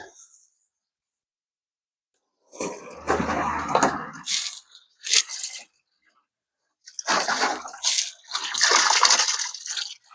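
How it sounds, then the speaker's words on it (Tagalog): Cold, clean water surges in bursts, splashing and rushing loudly in two separate spells with quiet gaps in between. "Bigla na lang bubulwak yung tubig oh."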